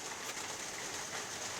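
Rain falls outdoors on a rainy day, a faint, steady hiss of drops with no breaks and no voices.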